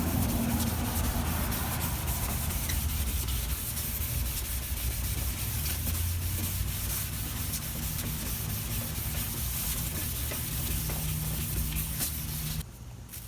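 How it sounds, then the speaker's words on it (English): Continuous close rubbing and scraping as sandpaper works over a hard plastic car headlight, a steady gritty hiss that stops abruptly at the end. "Just sanding the other side now."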